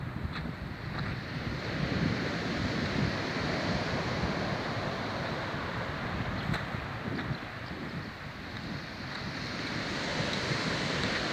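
Waves wash onto a gritty pebble beach on Rhodes after storm winds, a continuous rushing surf mixed with heavy wind buffeting the microphone, steady and loud with no voices.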